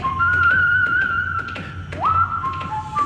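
A single person whistles a sustained melodic tune, holding long steady notes, then sliding upward into a new phrase, loud and close, with light tapping and low background noise beneath.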